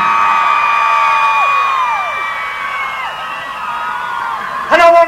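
A live rock concert crowd of girls screaming at a show in Brighton: loud, high, sustained shrieks from many voices that slowly fall in pitch, ending with a sudden burst of shouting.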